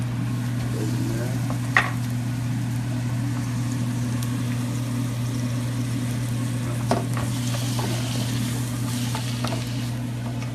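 Vegetables cooking in a pan on a stovetop while preparing beef and pork roulade, a steady soft sizzle with a constant low hum and a couple of faint clinks, no talk.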